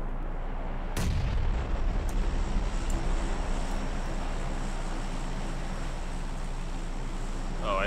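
One heavy, close gunshot in a battle royale game, a sudden boom that rolls off into a steady low rumble and ambient hum.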